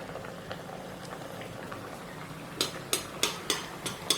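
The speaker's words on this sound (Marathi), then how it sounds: "तेल आता चांगलं तापलेलं आहे. चिरोटे लाटून झालेल्या एक एक एक एक घालायचे." Chiroti pastries dropped into hot oil, frying with a soft bubbling sizzle that breaks into a run of crisp, evenly spaced popping crackles near the end.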